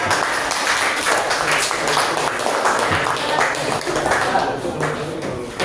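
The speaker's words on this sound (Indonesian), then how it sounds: "Beri tepuk tangan" A classroom audience claps for a student group after its presentation, a dense, loud wash of applause that holds steady for several seconds, with some voices mixed in underneath.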